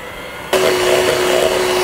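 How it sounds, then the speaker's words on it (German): An electric hand mixer starts up suddenly and runs at a steady whirring drone while whipping cold cream for a Nikolaus cake, loud and close with no talk. "Jetzt müssen wir die Sahne schlagen."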